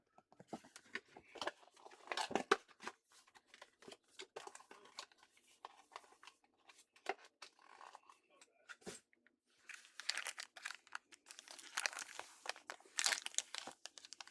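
Foil packs of 2026 Topps Flagship Football trading cards being torn open and handled, giving close, irregular bursts of crinkling and crunching with short quiet gaps and no talking.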